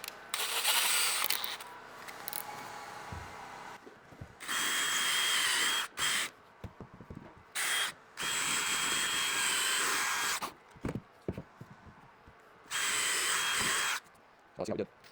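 A power drill with a 3/16-inch bit whines in repeated bursts of several seconds each, boring into wood for a stair newel post, with quieter pauses and handling noise between them.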